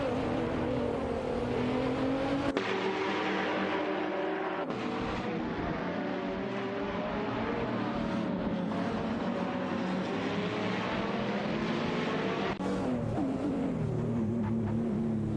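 GT3 race cars, including a Nissan GT-R and a Renault Sport RS1 GT3, racing closely around a track in a video game, with continuous loud engine drone and shifting revs as gears change, steady and close with no voices.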